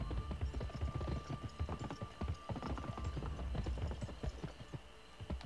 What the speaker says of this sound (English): Soapy, get your damn horse on here